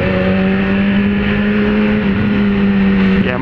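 Loud, steady engine drone of a fast car and motorcycle whooshing by up close, a constant roar with a brief sharper whir near the end.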